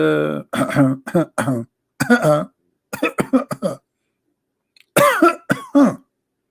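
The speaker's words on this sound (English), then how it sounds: "Should I cough more so people understand?" Several short, harsh coughs in quick bursts, close and loud, separated by brief silences.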